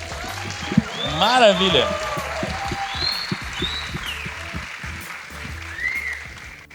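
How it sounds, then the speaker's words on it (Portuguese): Audience clapping welcomes guests at a casual developer beer meetup, a soft patter of applause under a voice speaking over it. "E uma salva de palmas."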